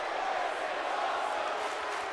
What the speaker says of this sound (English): And the crowd are chanting